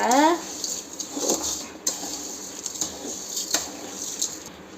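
Sugar melting in a pan is stirred with a utensil, giving a run of soft scrapes and light metallic clinks at close range, with a brief voice-like tone at the very start.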